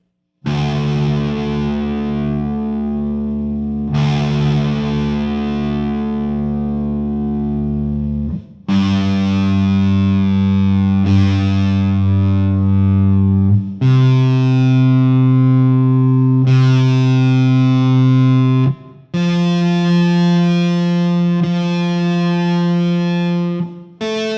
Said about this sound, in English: I'm going to give you the pitches, and you can tune your guitar up to this guitar